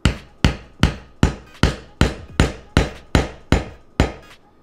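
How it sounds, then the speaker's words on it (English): A screwdriver taps a dime down into a cork: ten sharp, evenly spaced clicks in quick succession, close and clear, with no voices. "put your screwdriver and just tap her on in."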